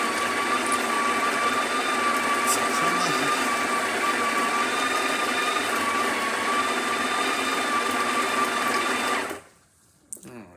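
Breville espresso machine pulling a double shot with tightly ground test beans after a full tune-up, a loud, steady pump hum with a high whine that runs unbroken for about nine seconds and then cuts off abruptly.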